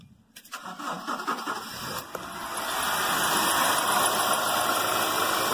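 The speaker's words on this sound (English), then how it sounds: "Okay, I'm gonna start the car." A Honda CR-V that starts, runs and then dies cranks with a short whirring burst, catches, and settles into a steady close idle hum that holds to the end.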